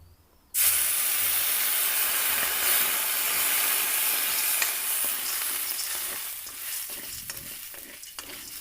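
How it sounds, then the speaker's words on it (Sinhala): Popcorn kernels stirred in a hot pan with salted water, a loud continuous sizzling hiss that bursts in suddenly and holds steady, with scraping stir strokes growing more distinct toward the end. "මේම දැන් ආයෙත් දිගටම කලගන්න ඕනි."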